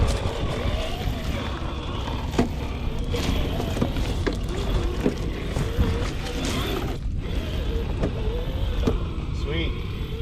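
A WLToys RC car drives over rough terrain outdoors, its electric motor whining steadily with clatters and bumps from the wheels and chassis across the whole stretch, fairly loud and continuous, with a brief dip near the middle.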